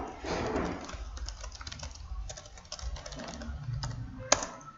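Fingers type on a computer keyboard during a programming lesson, a steady run of soft close key clicks with one sharper key strike near the end, over low room noise.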